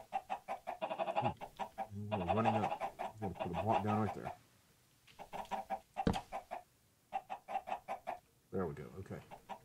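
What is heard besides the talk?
chickens clucking in video game Minecraft Sky Factory 3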